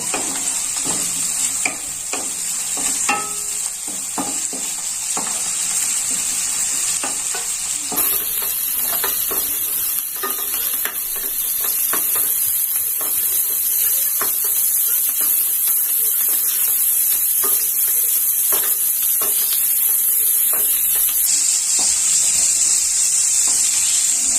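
Shrimp frying in hot oil in a pan give a continuous close sizzle and hiss, broken by frequent clinks and scrapes of stirring throughout.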